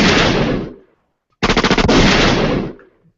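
Rapid automatic gunfire rings out in two loud, close bursts, the second a quick rattling string of shots, separated by a brief silence.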